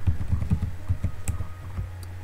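Rapid, uneven keystrokes clatter on a computer keyboard in quick bursts, close and fairly loud, with a short pause before a few final taps.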